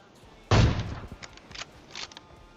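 Gunfire in the mobile battle-royale game PUBG Mobile: one loud, close shot burst, then several fainter scattered shots over the next couple of seconds.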